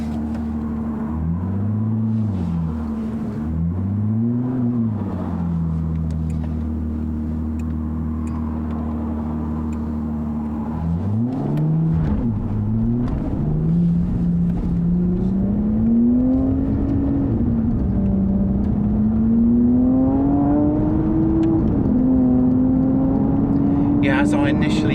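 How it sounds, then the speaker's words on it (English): An Aston Martin V12 Vantage S, driven with adapted hand controls, pulls away from rest with its V12 engine rising through the revs in rolling surges, loud and close throughout, with the gear change audible. "select a gear, and I'm going to come off, a little bit of throttle"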